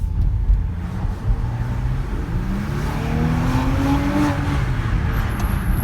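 A Maserati Levante SUV engine pulls and revs while driving, with a rising and falling low drone plus road and tyre rumble, loud and close from inside the car, no talking.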